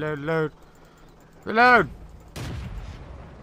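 A tank cannon fires in World of Tanks as a medium tank, one loud broadband boom near the end after a short stretch of the player's voice, with a rumbling tail that carries on after it.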